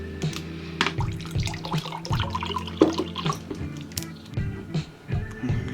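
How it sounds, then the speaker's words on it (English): Water is poured into strawberry cordial syrup in a glass, trickling and splashing in uneven bursts with drips, close up and fairly loud. "Let's add a bit of water to this one."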